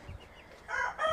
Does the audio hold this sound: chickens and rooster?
yes